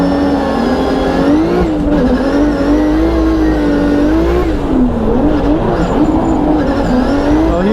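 A pro drift car at a racing event in Brazil holds a loud, continuous engine note that rises and falls with revs, mixed with sustained tire squeal, close and unbroken throughout.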